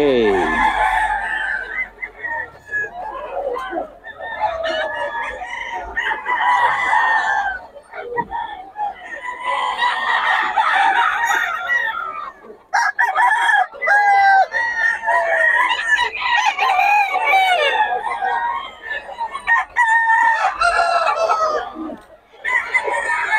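Gamefowl stags at a market in Bocaue crow and cluck repeatedly, several calls overlapping, loud and nearby, while people talk over them throughout.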